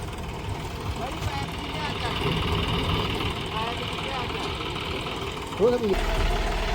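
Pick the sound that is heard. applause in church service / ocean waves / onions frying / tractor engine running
tractor engine running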